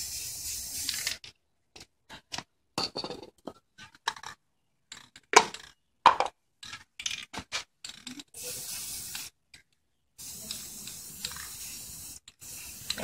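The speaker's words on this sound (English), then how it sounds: "just going back spraying over it" Aerosol spray paint can hissing in short, repeated bursts with pauses between, fairly close, some passes longer and steadier, while coating a DIY mirror frame over silver paint.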